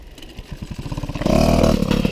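A Peugeot 103Z moped fitted with a 70cc Airsal kit catches and starts, a quick run of popping pulses building into a steady raspy two-stroke drone, close and loud, with no talk.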